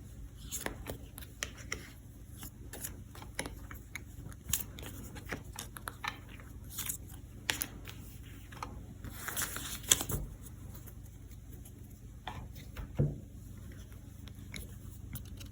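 Tarot cards being handled and shuffled, giving soft papery riffles and small snapping clicks scattered irregularly across a quiet, close background.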